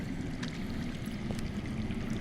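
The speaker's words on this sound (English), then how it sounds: "I hear water. From underground." Underground water in the Game of Thrones video game rushes and pours in a continuous, even wash, moderately loud with no voices over it.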